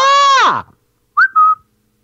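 A loud harmonic cry sweeps downward and fades, then after a pause come two short, sharp whistled notes, close and clear against silence.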